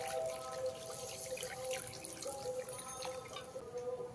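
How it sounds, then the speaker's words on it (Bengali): Water is poured into a pan of fish curry with potato and eggplant, a soft steady splashing and trickling that runs continuously at low volume. "এখানে এবারে পরিমাণ মতন জল দিয়ে দেবো"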